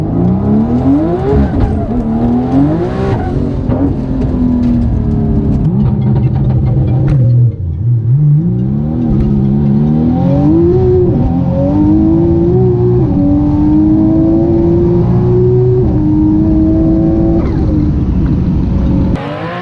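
A 1500HP Mitsubishi Evo 6 race car accelerates hard on a pass, its engine loud and close, repeatedly climbing in pitch through rising revs, dipping briefly before pulling up again for a long sustained run.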